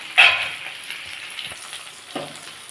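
Potatoes, onion and tomato frying in a pan, with a sharp sizzling burst at the start that settles into a steady, softer hiss, and a brief stir or scrape near the end.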